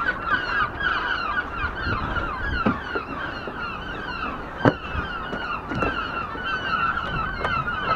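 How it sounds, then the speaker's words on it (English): Repeated seagull calls ring out over a steady, busy outdoor background on Brighton rooftops, with a few sharper cries standing out now and then. "Hear that? The seagulls love our channel."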